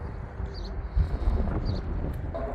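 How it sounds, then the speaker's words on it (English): Strong wind buffets the microphone aboard the Battleship New Jersey in a constant low, rumbling roar, with no one speaking. "Sorry if there's wind, man, it's super windy out here."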